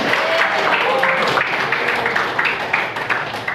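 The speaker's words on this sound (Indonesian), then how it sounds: "Tepuk tangan buat kita semua." Applause from a gathered class of students at a field-practice school session, steady and dense throughout, with a voice or two faintly mixed in beneath the clapping.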